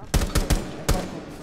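Four sharp bursts of video game gunfire in Rainbow Six Siege crack in quick, uneven succession, loud and close, followed by a lingering rumble.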